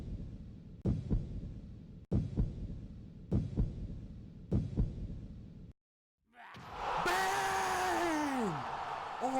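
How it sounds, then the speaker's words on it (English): Four slow, heavy heartbeat thumps, each a doubled beat, pulse evenly as a tension effect in a Pokémon anime battle, then cut to brief silence before a rising whoosh with sweeping tonal tones. "Some tense heartbeats at the peak of the tension."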